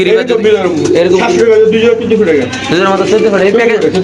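Pigeons, including high-flyer and racing birds at a pigeon sale, coo close by in throaty bursts. Loud conversation between people runs over them the whole time.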